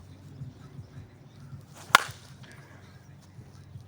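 Senior baseball bat striking a ball during batting practice: a single sharp, loud crack at mid-clip over quiet outdoor background.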